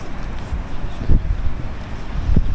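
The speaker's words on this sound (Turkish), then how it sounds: "Rüzgar" Steady outdoor wind buffeting the microphone above the historic town of Zile, Tokat, Turkey, low rumbling gusts swelling and fading over a couple of seconds, with no voices.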